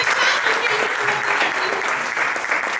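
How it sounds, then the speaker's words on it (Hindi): Audience applause honouring women at a Hindi poetry gathering, continuous lively clapping from a crowd, steady and fairly close, with some murmuring voices underneath. "इनके सम्मान में एक बार तालियां होनी चाहिए"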